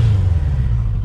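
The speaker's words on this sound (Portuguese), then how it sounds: "Olha o ronco da moto." A motorcycle fitted with a sport exhaust, giving a brief, deep, steady engine rumble heard close and loud with no talk over it.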